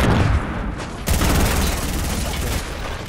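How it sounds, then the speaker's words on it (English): Gunshots in a multiplayer shooter game: dense bursts of loud gunfire, a heavy volley kicking in about a third of the way through and holding steady, with players talking over it. "I shot him twice."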